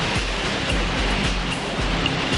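Hurricane-force wind roaring over breaking ocean waves, a loud, unbroken wash of noise with heavy low rumbles surging every half second or so.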